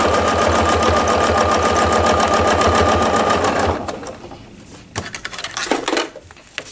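A quilting sewing machine stitches rapidly along a ruler line on a table runner, a fast rhythmic close-up whirring for several seconds, then it stops and is followed by clicks and handling noises.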